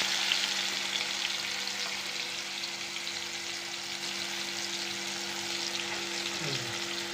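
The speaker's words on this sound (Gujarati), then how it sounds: "સરસ મજાનો ટમેટાનો વઘાર થઈ ગયો છે, જોઈ શકો છો." A steady, loud sizzle of a tomato tempering frying in a hot pan, constant hiss with a faint low hum underneath and no talking.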